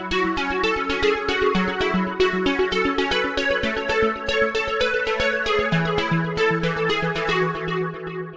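Busy Italo disco lead melody on a U-He Diva synth, a fast, steady run of plucky harmonic notes over a repeating bassline, loud and continuous with no voices.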